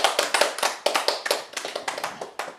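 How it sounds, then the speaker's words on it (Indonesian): A church congregation claps its hands during a sermon in a fast, rhythmic run of sharp, close claps with no talking. "Tepuk tangan dong buat Tuhan Yesus."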